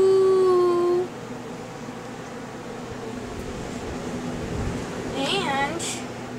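Pet dogs at home howl in a long rising-and-falling wail, then fall to soft whimpers and yips over a steady background hiss, with a brief higher cry near the end.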